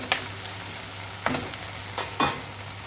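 Okra sizzles and fries in a pan as a ground coconut, bird's-eye chilli and turmeric paste is stirred in, with a steady close sizzle and a few louder scraping stirs.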